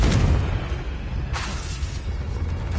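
Confringo blasting spell explosion in Hogwarts Legacy, a low boom at the start followed by a rushing burst around the middle, close and fairly loud within game ambience.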